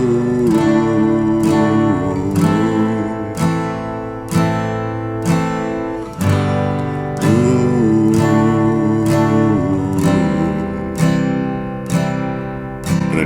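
Acoustic guitar strums a song intro chord progression, a steady rhythm of bright repeated strokes played close and alone with no voice.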